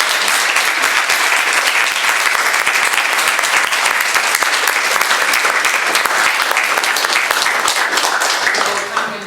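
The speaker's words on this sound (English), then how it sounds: "So let's give them a round of applause." Sustained, loud applause from a large audience at the Northern Europe regional moot court competition finals, honouring the competition judges; dense clapping fills the whole stretch without letting up and thins slightly at the very end.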